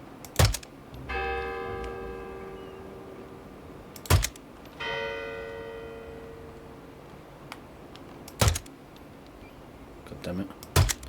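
Church bells struck one at a time in the Hitman game, each a sharp metallic strike followed by a sustained ringing tone, spaced several seconds apart, with softer ticking between them and a brief flurry of strikes at the end.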